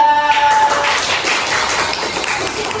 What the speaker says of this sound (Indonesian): Tepuk tangan untuk kelompok 3.